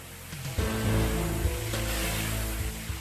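A high-pressure water jet from a Woma turbo nozzle blasts slag deposits off a crucible mold, making a steady, loud roaring hiss over a low mechanical hum.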